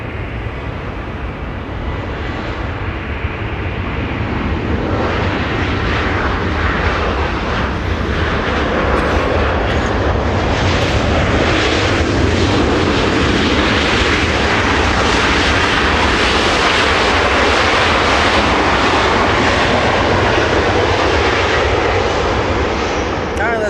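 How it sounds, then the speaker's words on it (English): A United Airlines Boeing 787-9 Dreamliner jet at Los Angeles International Airport, its engines a loud, steady broadband roar that swells and holds for over twenty seconds, with faint radio chatter beneath. "We're going to see a Dreamliner, United Airlines 935 flying from London Heathrow."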